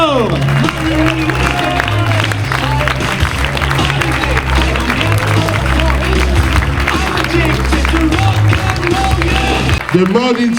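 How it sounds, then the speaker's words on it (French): Audience applause at the Mode in Simorre 2023 fashion show, loud dense clapping with crowd noise and cheering that runs steadily for about ten seconds before cutting off. "On applaudit très fort!"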